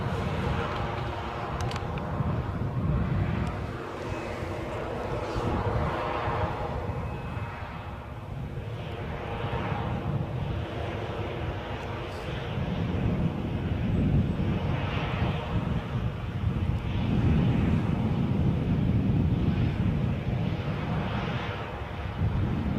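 A United airliner close by at Edinburgh airport, its engines a broad, steady roar that swells and rolls on for the whole stretch, mixed with wind buffeting the microphone.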